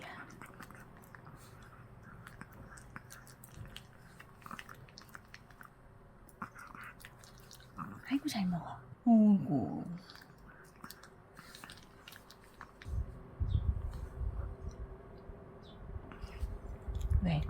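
A child eating, with soft close chewing and moist squishy bites, interspersed with quiet talk and small handling sounds.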